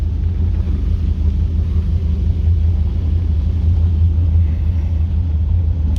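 A 1997 Dodge Ram pickup rolls through a drive-through car wash. A deep, steady rumble of engine and machinery fills the bay, with a constant wash of spray noise and no talking.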